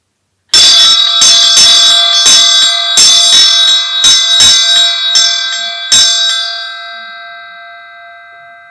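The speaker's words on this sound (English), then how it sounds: "I'm going to ring the bell, and when the sound stops you can open your eyes." A ringing bell opens a mindfulness exercise with a rapid series of bright metallic strikes, each adding to a shimmering, tonal ring that decays slowly into silence once the striking stops.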